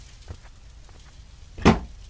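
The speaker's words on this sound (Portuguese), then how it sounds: "Coloca as roupas na gaveta." A drawer in a Japanese horror game is handled while clothes are put away. A soft knock comes first, then a single louder wooden thud as it shuts. Close and brief, over a quiet background, with no voices.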